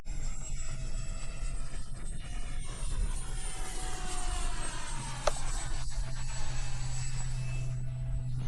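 A model airplane with its engine running makes a low inverted flyby, a steady loud whine whose pitch sweeps down as it passes, heard outdoors over a constant rumble of wind.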